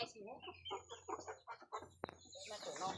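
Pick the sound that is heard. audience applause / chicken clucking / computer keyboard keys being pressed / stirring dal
chicken clucking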